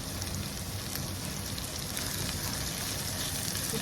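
Dried shrimp (icha shutki) frying with onions in a pan, a dense, even crackling sizzle like rain on a surface, close and fairly loud throughout with no talking.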